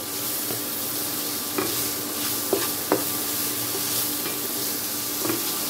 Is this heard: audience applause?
no